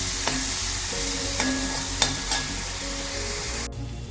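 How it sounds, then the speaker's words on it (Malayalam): Ginger, garlic, crushed shallots, slit green chillies and curry leaves sizzle in hot oil for coconut milk rasam, a steady close crackle with a few sharp utensil taps against the pan. "ഇത് നല്ലോണം ഒന്ന് നമുക്ക് ഫ്രൈ ചെയ്തെടുക്കാം."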